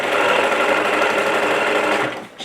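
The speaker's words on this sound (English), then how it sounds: "right below the hem, literally just right below that," A sewing machine stitches a line just below a shirt hem, running loud and steady at high speed near the mic before slowing and stopping at the end.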